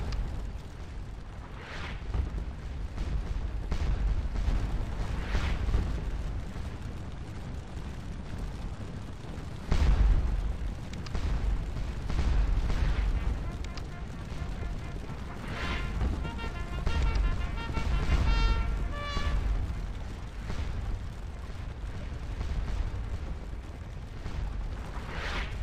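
Cannon fire from Napoleonic artillery batteries at Ligny during the Waterloo campaign in the strategy game Scourge of War Waterloo: a dense, continuous barrage of rumbling booms and distant blasts, with a few sharper reports standing out over the din.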